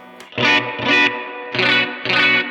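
Four distorted electric guitar chord strums on the bridge pickup of an all-original early-1960s Fender Stratocaster, each ringing about half a second with a hot, bright, gritty bite and short gaps between.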